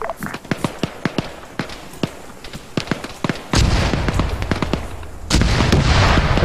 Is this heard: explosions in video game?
yes